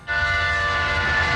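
A passing train sounds its horn in a film scene, a loud, steady, close blast held without a break over a low rumble of rail noise.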